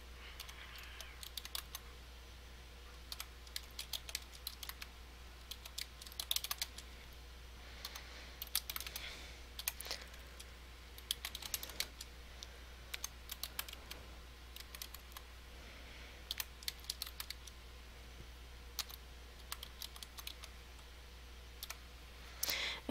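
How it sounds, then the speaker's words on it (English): Quick, irregular clicks of typing on a computer keyboard as a question is entered, steady bursts of keystrokes continuing throughout over a low hum, with no talking. "To create a jumbled sentence, I would click that option and I would type out the question."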